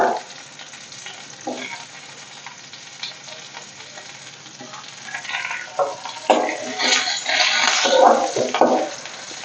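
Slit spicy green chilies dropping into hot oil in a pan for a buttermilk curry, a steady close sizzle that swells and crackles louder toward the end, with no talking.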